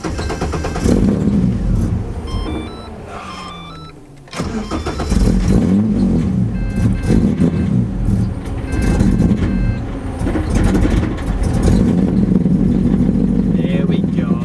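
A cold Ford AU Falcon engine cranks, briefly dies, then catches and runs with steady revving and a rough mid-range drone. A person talks over the engine noise.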